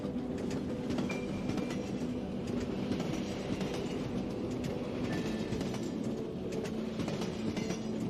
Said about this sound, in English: The train moves.